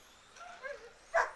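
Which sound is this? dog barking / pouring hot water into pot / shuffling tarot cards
dog barking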